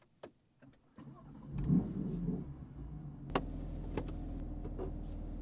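A BMW M4 GTS starts up: a few clicks and thumps, then the engine catches with a rising burst and settles into a steady, close idle rumble punctuated by light ticks.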